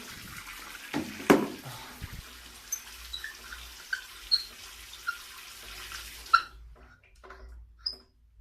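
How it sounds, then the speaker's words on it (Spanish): A shower runs at home with a steady spray and a few clunks and taps, then is shut off about two-thirds of the way through, leaving near silence with small drips. "Voy a cerrar la regadera."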